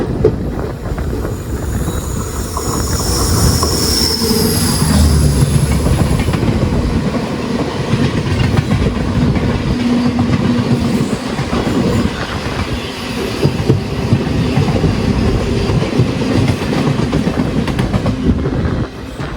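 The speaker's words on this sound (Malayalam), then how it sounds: "തിരുവനന്തപുരം നോർത്ത് യശ്വന്ത്പൂർ ഗരീബ് രത്ത് വരുന്നുണ്ട്." A loud Garib Rath express train, Thiruvananthapuram North to Yesvantpur, rumbles past close by, with a steady rolling roar and rhythmic clatter of wheels over the rails, a brief high squeal early on.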